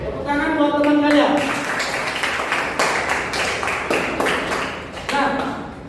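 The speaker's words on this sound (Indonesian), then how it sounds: "tepuk tangan buat teman kalian" Schoolchildren in a classroom clap for a classmate, a burst of scattered, uneven hand claps that rises, thins out and picks up again near the end, with a voice heard at the start.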